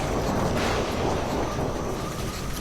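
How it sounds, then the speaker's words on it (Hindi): Strong storm wind roars steadily and loud, a dense continuous rush with gusting rumble and no break, close to the microphone and with no voices. "वहां एक भयंकर तूफान आ जाता है"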